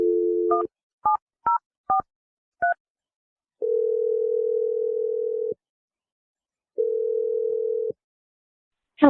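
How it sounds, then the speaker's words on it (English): Telephone dialing a number, with a dial tone followed by a quick run of separate DTMF keypad beeps, then two long ringback tones separated by silence. "I'm going to dial the phone number."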